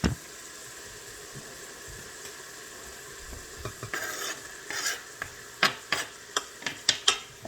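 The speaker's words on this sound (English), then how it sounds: "So I'm just going to put our onions in." Onions fry in a soup pot with a continuous sizzle that swells partway through, followed by a series of sharp clinks and scrapes of stirring in a quickening rhythm, no one speaking.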